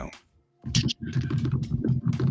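Someone types on a computer keyboard: a few sharp clicks, a brief pause, then a fast, continuous burst of close, crisp key taps.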